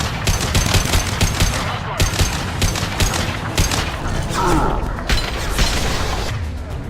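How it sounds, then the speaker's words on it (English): Rapid firefight gunfire in the video game Mass Effect 2, Blue Suns mercenaries and Vorcha shooting; dense bursts of automatic shots with sharp cracks, loud and continuous, occasional heavier impacts mixed in. "The Blue Suns and Vorcha are shooting anything that moves."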